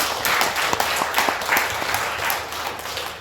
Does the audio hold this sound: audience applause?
yes